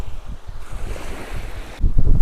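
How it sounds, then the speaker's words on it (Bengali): Rough, wind-driven sea waves churn near a fishing boat in the Sundarbans, a loud continuous wash of surf and wind rumble that swells stronger at the end. "সমুদ্র বেশ উত্তাল আছে, দেখতেই পাচ্ছ, ঢেউ বাতাসের জন্য ঢেউ হচ্ছে"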